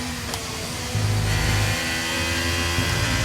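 A Formula 1 car in the F1 23 video game at Silverstone re-accelerating out of a series of corners, a high whining engine note rising through the gears, steady and fairly loud without speech.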